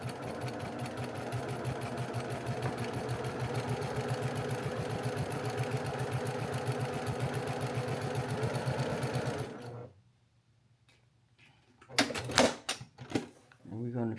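A home sewing machine runs steadily, stitching a charity quilt block with flying geese, a dense mechanical whir that stops suddenly, followed by quiet and then a few clicks and handling noises.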